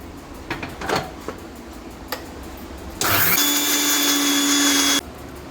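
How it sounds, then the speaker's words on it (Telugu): A kitchen mixer grinder grinds multigrain lentil powder, whirring loudly for about two seconds, a steady high-pitched motor roar that starts abruptly and cuts off, after some light clatter. "మిక్సీ వేసుకుందాం ఒకసారి"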